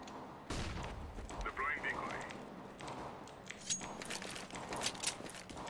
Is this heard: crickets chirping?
no